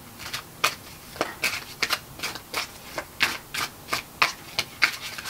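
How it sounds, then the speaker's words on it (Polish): Tarot cards being shuffled and drawn by hand, a run of quick, crisp riffling snaps repeating in an uneven rhythm, close and clear with no talking. "Dociągnę te karty, jeszcze dodam więcej informacji."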